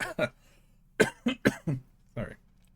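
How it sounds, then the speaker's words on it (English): Several short, sharp coughs in quick bursts, fairly close and moderately loud, separated by brief pauses. "I made myself cough because I was laughing."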